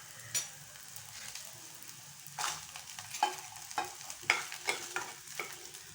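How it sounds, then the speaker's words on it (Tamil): Chilies sauté in hot oil after onions and garlic for shallot chutney, with a steady soft sizzle punctuated by scraping stirs of a utensil against the pan. "இப்போ மிளகாயை சேர்த்து வதக்கிக்கோங்க."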